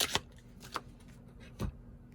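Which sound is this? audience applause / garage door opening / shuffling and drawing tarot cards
shuffling and drawing tarot cards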